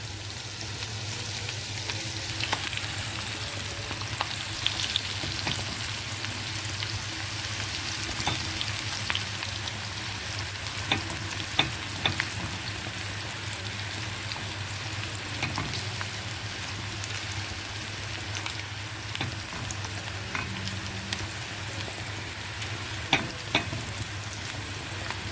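Sliced onions dusted with starch and flour fry in hot oil for Alexandrian koshari, a steady, dense sizzle with scattered pops and crackles, close and continuous throughout with no talk.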